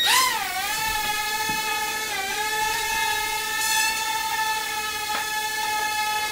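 A small S9 mini drone spins up for takeoff and hovers nearby. Its motors whine in a close, steady, buzzing tone that rises at the start and then holds with slight wavering.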